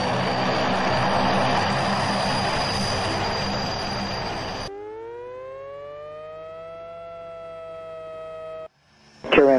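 Propeller aircraft engine in a flight simulator game, a Caravan taking off from runway 33: a dense steady engine roar, then a rising whine with clear tonal harmonics, ending in a brief loud burst.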